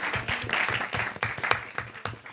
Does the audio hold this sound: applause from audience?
yes